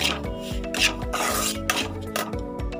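Semolina being stirred and dry-roasted in a pan, a rhythmic scraping and rasping of a spoon against the metal, with repeated strokes roughly every half second, close and clear, with no talking.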